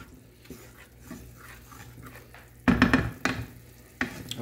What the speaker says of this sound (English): And we're going to give it a stir.